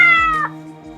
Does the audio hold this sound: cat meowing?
yes